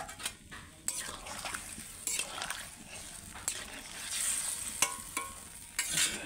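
Pieces of roop chand fish dropped into a simmering curry in a pan, sizzling and bubbling with several sharp utensil clinks and scrapes against the pan scattered through it, and no voices.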